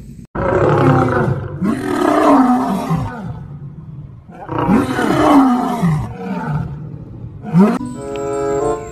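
Loud, close lion roars in two long deep rumbling bouts, each with groaning grunts, followed by a shorter roar at the end.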